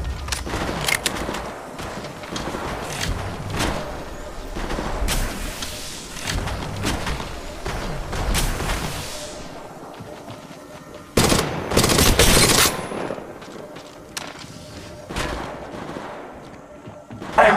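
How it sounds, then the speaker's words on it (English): Bursts of automatic gunfire in the mobile game Apex Legends Mobile, loud and close, with repeated sharp volleys in irregular clusters, one heavy burst standing out near the end of a busy stretch. "Shots fired at me."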